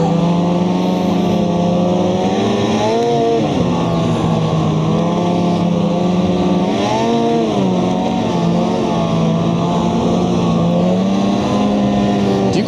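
Snowmobile engine ridden along a snowy trail, a loud sustained whine with shifting pitch as the throttle rises and eases, close and steady throughout.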